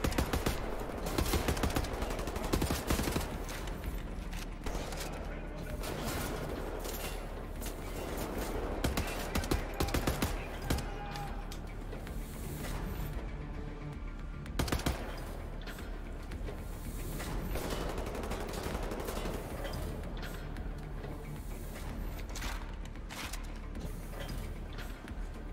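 Gunfire in Wolfenstein: The New Order during an underwater vault level: sustained rapid automatic bursts and repeated shots filling most of the stretch, with brief pauses, fairly close and constant.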